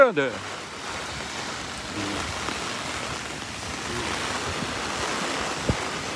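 Wind blows steadily outdoors in wet, rainy weather, a broad continuous rush with faint splashy texture and a brief knock near the end.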